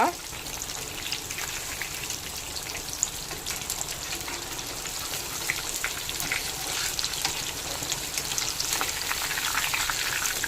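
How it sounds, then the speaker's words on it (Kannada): Buthai sardines coated in rava fry in oil in a pan, Mangalore style, giving a loud, steady, continuous sizzle with no talking over it. "ಜಾಸ್ತಿ ಎಣ್ಣೆ ದೀದೆ ಫ್ರೈ ಮಲ್ತೊಂದುಲೆ ಇತ್ತೇನು ಮೆಲ್ಲ ಮೆಲ್ಲ ತಿರ್ಗಾದ ಪಾಡ್ಗ"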